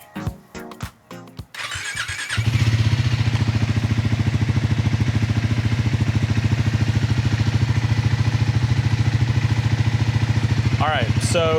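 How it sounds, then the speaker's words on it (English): A Triumph Scrambler 400X single-cylinder motorcycle with a Yoshimura exhaust fires up after brief talk and a starter whir, then settles into a loud, close, steady thumping idle that runs to the end. "Let's get the bike rolled outside and let's see what this little single sounds like."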